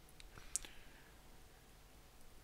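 A few faint, sharp computer mouse clicks while setting up Windows on a cloud server, in an otherwise quiet room.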